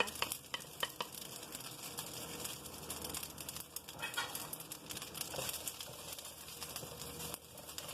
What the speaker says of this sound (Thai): ตอนนี้นะคะ จะมาผัดเส้นนะคะ ผัดเส้น ใส่เส้นลงไปก่อนนะคะ